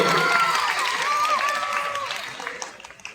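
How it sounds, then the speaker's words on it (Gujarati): An audience at a high school Independence Day celebration applauds in a dense, continuous wash of clapping that slowly thins toward the end, while a voice talks over it. "એને તાળીઓના જોર ગંગરાટથી વધારવા જોઈએ"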